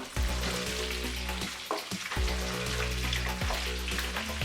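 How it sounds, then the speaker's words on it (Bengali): Boiled olives fry with browned garlic and dried chillies over medium heat for a sweet-sour-spicy pickle, a dense close sizzle with repeated stirring scrapes and clinks against the pan. "এবার খুব ভালো করে নাড়াচাড়া করে নিচ্ছি"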